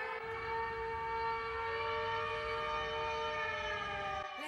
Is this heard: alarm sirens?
yes